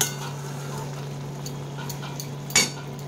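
Sesame prawns fry in a pan over a low-to-medium gas flame, a steady soft sizzle while a spoon stirs, ending in one sharp metallic clink against the pan.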